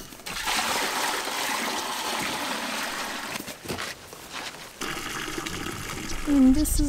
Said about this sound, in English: Filling up the water was really heavy in the beginning